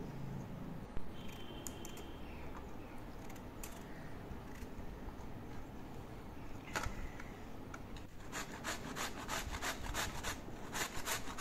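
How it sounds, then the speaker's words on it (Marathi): Ash gourd (kohala) with its peel removed being grated by hand, a steady scraping and rubbing texture that runs continuously and closely, growing brisker and more rhythmic toward the end, with no talking. "आधी कोहाळ्याचं साल काढून घ्यायचं आणि मग तो किसायचा."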